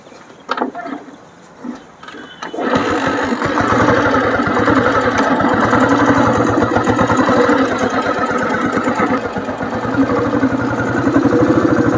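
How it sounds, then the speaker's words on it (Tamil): A 1989 Royal Enfield Bullet motorcycle: a few clunks, then the engine fires and settles into a loud, close, steady thumping idle that continues to the end. "ஸோ ஃப்ரெண்ட்ஸ் வண்டி எப்படி இருக்குன்னு சொல்லி ஓட்டி காட்டுறேன்"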